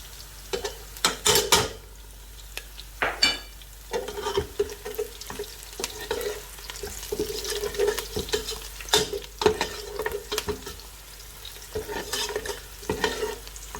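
Onions and garlic frying in a pot for Egyptian-style lentils while a spoon stirs them, giving a steady sizzle broken by repeated scraping and clinking strokes against the pan, close up and with no talking.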